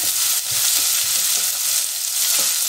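Spinach, potatoes and onion frying together in a pan give a loud, continuous sizzle, with faint stirring scrapes underneath and no talking.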